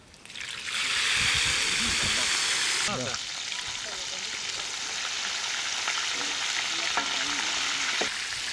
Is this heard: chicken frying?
yes